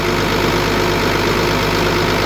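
An engine in a workshop idles steadily and loudly after a restart, with a continuous low rumble and no voices over it.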